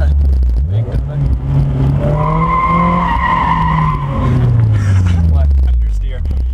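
A Honda S2000 with an HKS exhaust and test pipe spins donuts, its engine droning in a rising and falling pitch while the tires squeal loudly and continuously, close by, with people talking over it.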